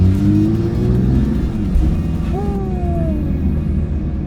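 Manual Porsche 911 GT3 engine revving while driving, a loud rumbling drone that rises sharply in pitch and then eases off, close and without talk.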